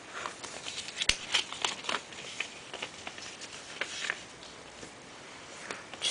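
Excess paper is torn off by hand while folding an origami ninja star, giving faint, close, scattered crackles and short rips against a quiet background.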